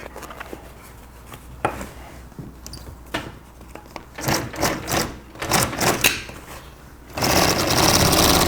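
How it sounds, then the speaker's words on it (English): A sewing machine top stitches canvas for a 38-foot Sea Ray boat Bimini. Scattered clicks and handling noises come first, then short bursts of close stitching, ending in a loud steady run. "now what I'm doing is I'm actually top stitching on both the top and"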